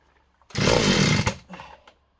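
An Oleo Mac chainsaw engine roars to life in a brief, loud burst of about three-quarters of a second, then dips and sputters in a couple of weaker pulses before falling silent.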